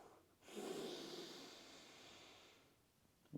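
Ujjayi yogic breathing, a single long, soft, hissing breath drawn through the nostrils, close and quiet, followed by the start of another breath.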